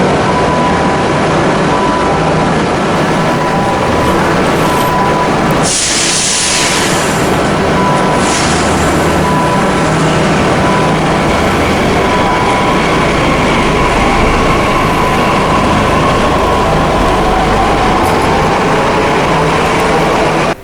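A Delhi Metro train pulls away from the station platform, its steady broad rumble and hum filling the whole stretch, with a brief hissing swell partway through and no talking.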